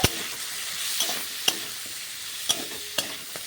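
Prawns frying in a pan with salt and turmeric, a bright steady sizzle broken by a few sharp clicks of a spatula against the pan, close and clear, no speech.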